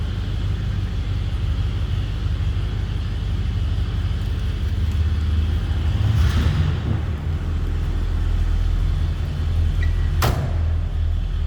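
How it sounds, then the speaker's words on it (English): 1971 Oldsmobile Cutlass Supreme convertible with a Rocket 350 V8 idling, a steady low rumble held throughout, with a brief clunk midway and a sharp click near the end. "Good sounding car again. Rocket 350. Ooh, listen to that."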